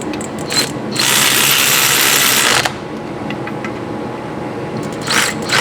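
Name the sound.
ratchet tightening a bolt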